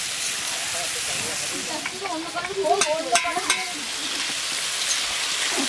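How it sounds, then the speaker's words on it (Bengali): Fish frying outdoors at a family winter picnic, with a steady hissing sizzle from the pan throughout and a burst of nearby voices and clatter in the middle. "আর ওইখানে এই যে মাছ ভাজা"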